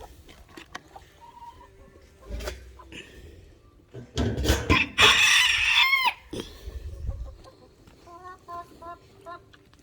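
Chickens cluck and a rooster crows close by, with a burst of loud crowing and squawking in the middle and scattered clucks before and after, while a person speaks intermittently.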